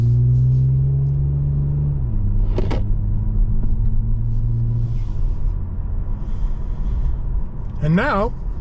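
A 2023 Toyota Camry TRD in sport mode drives with a steady low engine drone and road rumble that shifts pitch as it changes gear, while a person talks over it.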